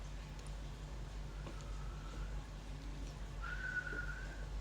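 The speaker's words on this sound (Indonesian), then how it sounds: "dia bilang kayak mau siul tapi nggak bisa" A faltering attempt at whistling, a thin wavering tone that breaks off and then returns as a brief steadier pitch, heard alone and fairly close over a constant low hum in an indoor room.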